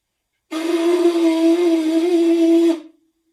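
A steady trombone-style lip buzz is held for about two seconds on one pitch with strong harmonics. It is close and loud, with silence before and after.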